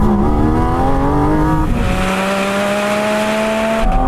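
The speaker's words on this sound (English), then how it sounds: "and then there's a throttle response to that engine, and you've got all the revs" Porsche GT4 RS engine revving while driving, a loud close engine note climbing steadily in pitch through a gear, then dropping and rising again at the end.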